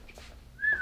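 A person gives a brief, faint whistle, a short rising tone near the end of a quiet moment, with no talking over it.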